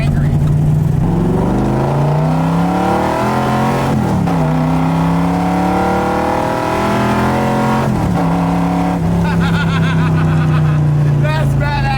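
A 427 big-block V8 Corvette engine roars loudly as it accelerates through repeated gear changes, pitch climbing and dropping, with voices talking over the constant rumble.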